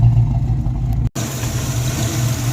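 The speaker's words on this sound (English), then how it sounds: "You can really hear it laboring through the exhaust." A car engine drones steadily at low pitch, cutting out for an instant before resuming its strained, rumbling exhaust note.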